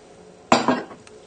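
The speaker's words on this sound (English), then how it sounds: "we just need to empty the prawns into the sauce" Prawns tip out of a bowl into cocktail sauce with a single sharp clink of dish and utensil, followed by a brief soft wet slide and a faint tap, close and otherwise quiet.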